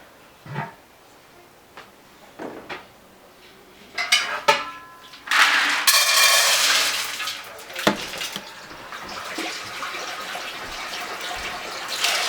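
Water runs into a pressure canner being filled to sterilize washed corn, with intermittent clatter and splashing early on, then a steady loud rush of filling from about six seconds onward.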